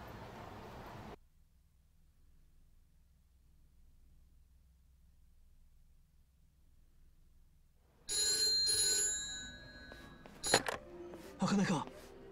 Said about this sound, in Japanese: 俺宛に電話がかかってきた